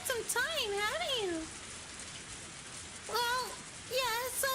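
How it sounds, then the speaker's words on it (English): Steady rain falls throughout a scene in the video game Higurashi Tatarigoroshi, a soft, even hiss that continues under intermittent voices talking. "Oh, it's been raining for a while, though."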